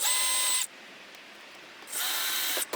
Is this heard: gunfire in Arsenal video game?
no